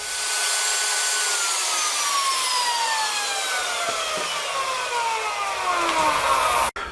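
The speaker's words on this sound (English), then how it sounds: "What this is a core box router bit, and so it's going to give me a round kind of hole or gouge" A core box router bit cuts a rounded gouge into wood while building a model railroad layout lift bridge, giving a loud, steady whining roar with a sliding pitch that runs for about seven seconds and stops abruptly at the end.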